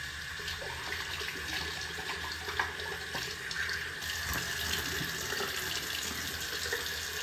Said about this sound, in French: La rincer tout simplement.